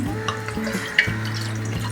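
About one liter of water is poured into a pan on a gas stove for red sauce pasta, with a soft splashing rush, accompanied by a low steady hum and a small clink partway through.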